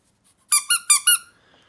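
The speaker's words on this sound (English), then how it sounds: "yes, a little squeaky pig." A small squeaky toy pig is squeezed four times in quick succession, each one a short, bright, fairly loud squeak with an even rhythm, heard alone with no talking.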